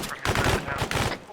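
Rapid bursts of gunfire from the military shooter game Arma 3, loud and dense with overlapping shots, continuing almost without pause.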